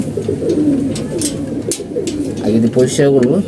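Several pigeons coo close by in soft, overlapping throaty calls, with some louder bursts of cooing toward the end.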